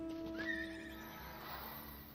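Dragon horse mount from Final Fantasy XIV gives a single bright, rising whinny near the start, fairly clear over a soft steady game music bed with a faint hoof clop.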